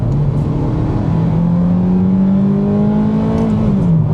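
Ferrari F430 engine pulling hard under acceleration with paddle-shifted manual gear changes, a loud steady rising drone whose pitch climbs through the gear, close and continuous with no talk.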